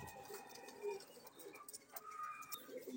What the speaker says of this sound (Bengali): এখানে অনেক কোয়ালিটির কবুতর থাকে, ওনার নিজের লফট